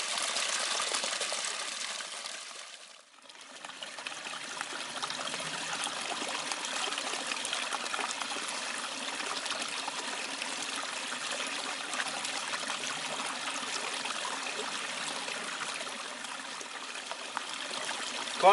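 Woodland stream water trickles and flows steadily into a water bladder, a close, continuous gurgle that dips briefly once before carrying on unbroken.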